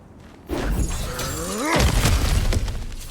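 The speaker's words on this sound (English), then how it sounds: "back to smashing through things for fun and profit" Something smashes apart in God of War Ragnarok, a loud breaking crash with scattered debris following, heard alone without talk over the game's ambience.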